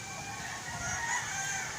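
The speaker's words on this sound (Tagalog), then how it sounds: "At dito naman meron po akong Spangled na manok." A five-year-old Spangled chicken in a backyard, crowing and clucking faintly at a distance, soft and brief over quiet outdoor ambience.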